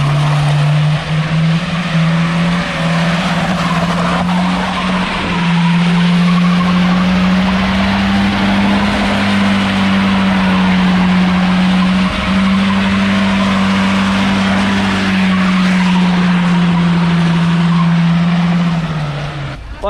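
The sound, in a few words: Lada car drifting doing donuts, tires skidding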